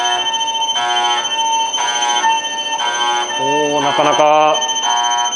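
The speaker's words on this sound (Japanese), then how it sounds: "けたたましい感じで警報が鳴りますね。" A train's emergency stop alarm rings continuously with shrill, steady, piercing electronic tones, loud and insistent, at a railway training centre, while a voice speaks briefly under it.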